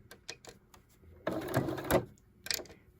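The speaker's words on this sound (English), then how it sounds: "I have put the fabric in right there on the pleat and have the needle down, and so now I'm just gonna do a couple back stitches" Sewing machine running a few short back stitches across a fabric pleat on a face mask, brief mechanical whirring bursts broken by short gaps and small clicks, close by and without talk.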